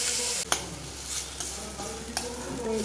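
Chutney being stirred into sprouted moong mattha sabji in a pan, with a steady sizzle under scraping strokes and two sharper clacks of the spoon against the pan, close and alone.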